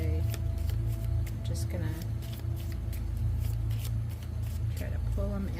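A deck of reading cards being shuffled by hand in sections: rapid riffling flutters and soft slaps, close and fairly loud, under a woman's speech.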